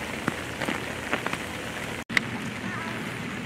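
Steady rain patters on surfaces at an outdoor zoo, a dense even hiss with scattered louder drops and a brief dropout midway.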